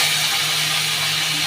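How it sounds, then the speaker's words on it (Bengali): Pieces of fish sizzle in hot oil in a kadai, a steady, dense hiss of frying that carries on evenly and close up, with no talk over it. "এবারে ফ্যাঁচাগুলোকে সব ভাজতে দিয়ে দিচ্ছি"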